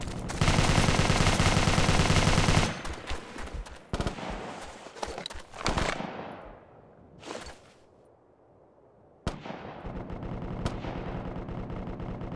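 Support gunner laying down suppressive fire in the video game Operation Flashpoint: Dragon Rising: loud, dense automatic bursts that hammer on, break off into scattered shots and a lull, then resume in sharp, sustained volleys.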